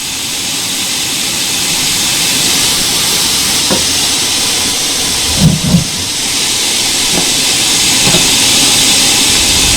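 Train Sim World 4 locomotive powering up, a steady broadband roar with hissing air and rumble running throughout, a few brief thumps and clanks partway through, close and loud with no talk.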